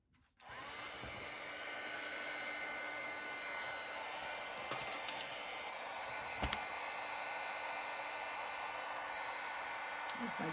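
A heat gun used for crafting vellum cards switches on after a brief moment and then blows with a steady, loud, airy roar, with a couple of faint clicks and no voices.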